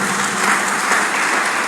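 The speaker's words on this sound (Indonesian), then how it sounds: "Tepuk tangan bagi Tuhan kita." Dense, sustained applause fills a church during a sermon, a loud, even roar of clapping hands with no letup across its short span.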